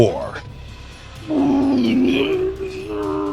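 A voice imitates a monstrous creature's roar with a drawn-out, guttural, growling bellow that swells loud and wavers in pitch, like a horrible mutated howl.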